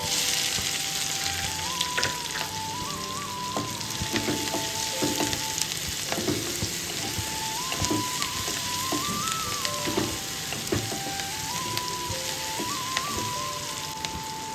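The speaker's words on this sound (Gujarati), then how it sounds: "વઘારમાં આપણે ડુંગળી એડ કરશું" Onion goes into hot ghee tempered with cumin and asafoetida, giving a steady crackling sizzle throughout, with no talking and a faint recurring melodic tone running under it.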